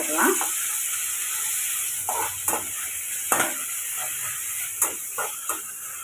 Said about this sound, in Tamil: இப்போ லைட்டாக அப்படி வதக்கி